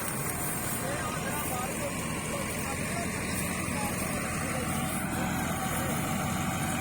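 A tractor-driven thresher working a canola crop in a field gives a loud, continuous mechanical roar that holds steady from start to finish, with voices faintly mixed into the drone.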